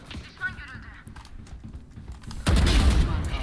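Gunfire in the video game Valorant begins as scattered light shots and then swells into a loud, sustained burst of firing in the second half, with voices talking in the background.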